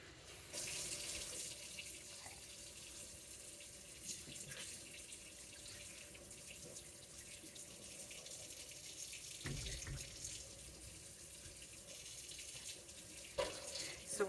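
Tap water runs steadily into a kitchen sink to rinse a spoon, a close, continuous splashing hiss with a few brief clatters.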